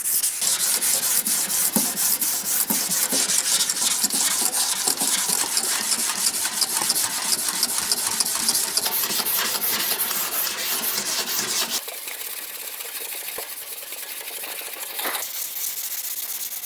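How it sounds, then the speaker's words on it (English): A 220-grit paper on a soft foam block is rubbed by hand across a curved body panel of a 1970 Chevelle: a continuous, close, raspy scrubbing of quick strokes that turns slightly softer near the end. "I'm using 220 grit to block. I like using these soft foam blocks for small curved areas on panels."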